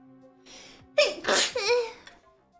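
A single loud sneeze with a sharp inhaled build-up, followed by a brief exhale, close to the microphone.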